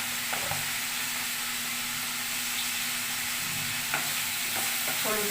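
Mixed vegetables frying and sizzling in a pan in a home kitchen, with a steady hiss and a few scraping stirs of the spatula near the end.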